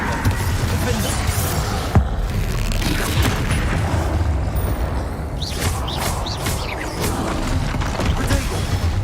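Confringo blasting spells in the Hogwarts Legacy video game land as heavy booms and crashing impacts amid a constant roar of combat effects. Sharp hits and whooshing sweeps come through in the latter half, loud and close, with faint talk mixed in.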